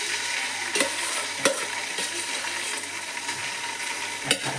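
Masala spice mix hitting hot coconut oil with mustard seeds, curry leaves and browned onions, a bright steady sizzle with a few sharp spatter pops and stirring scrapes, close and loud, no voices.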